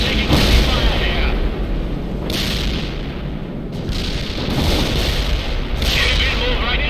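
Incoming artillery fire in the World in Conflict game, heavy rumbling booms and explosions rolling in waves with crackling debris, loud and dense, with game voices talking over the barrage.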